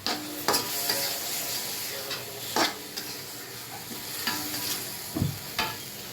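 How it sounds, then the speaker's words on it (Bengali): Potatoes fry and sizzle in a pan while a spoon stirs them, with a few sharp scrapes and clinks against the pan over a steady hiss. "এখন দিয়ে দেবো আলুতে একটু নাড়াচাড়া দিব।"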